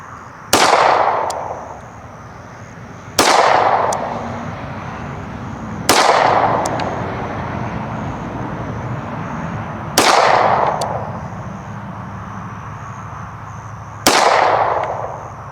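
Service pistol shots ring out during a timed-fire handgun match on an outdoor range, five loud, sharp reports spaced about three to four seconds apart, each followed by a lingering echo.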